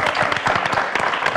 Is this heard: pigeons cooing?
no